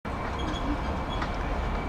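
A passenger train on the Ayr Apparent rail tour rumbles along the track with a steady, loud rolling drone and faint higher rattles. It is heard from on board, with no talking.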